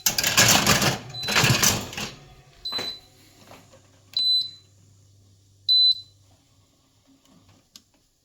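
Short electronic beeps from an Electrolux freezer control panel, three clear high-pitched tones spaced a second or so apart, following some clattering handling noise.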